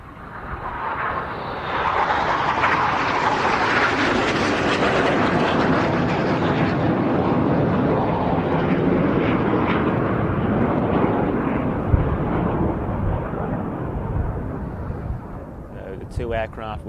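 A pair of BAE Hawk jets sweep past at the Royal International Air Tattoo air show, a broad, loud roar that swells and holds for many seconds before easing, with announcer commentary over it.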